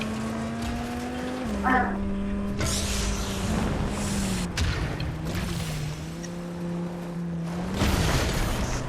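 Car engine driving in the Fortnite video game, a continuous droning hum that shifts pitch as it accelerates and changes gear, with impacts and game noise mixed in and players talking over it.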